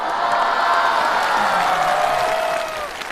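An audience applauds and cheers continuously at a stand-up comedy show, a dense wash of clapping from a large crowd with a few whoops, fading slightly at the end.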